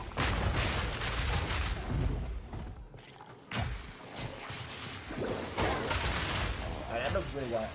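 Explosions and blasts from Diablo 4 combat, a dense run of booms, thuds and crackling bursts at high intensity, with people talking over them throughout.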